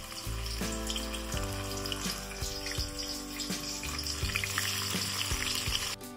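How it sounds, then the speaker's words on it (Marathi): Okra (bhindi) sizzling as it fries in leftover oil in a home kitchen, a steady bubbling hiss running throughout at low level, with no voices. "आता राहिलेल्या या तेलामध्ये मी भेंडी सुद्धा छान तळून घेणार आहे"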